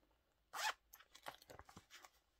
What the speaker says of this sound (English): A coin pocket that zips.